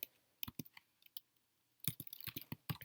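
Quiet clicks of a computer keyboard as code is typed, in two bursts: a few scattered keystrokes first, then a quicker run of taps after a short pause.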